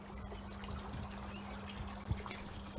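Clearwater scale controller liquid trickles into the water of a Lay-Z-Spa inflatable hot tub, a faint steady pour over a low constant hum, with a small splash near the end.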